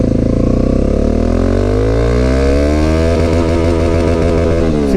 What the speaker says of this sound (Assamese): এই বাইকখন এতিয়া মই স্পীড টেষ্ট কৰিম মানে কিমান দূৰ যায় লং স্পীড 1 গিয়াৰ পৰা